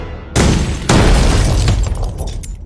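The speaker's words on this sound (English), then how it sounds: "A sympathetic detonation is when the force of an initial explosion triggers a secondary fuel source, creating a cascading explosive event." A tub of propane gas set off by detonators in a pool explodes in two loud, deep booms close together, the second rolling into a long rumbling roar that slowly fades.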